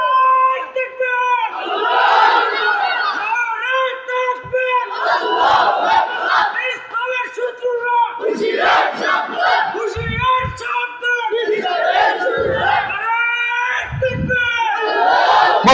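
A rally crowd roars a takbir chant in repeated massed call-and-response bursts, loud and near, with a leader's voice rising between the collective shouts.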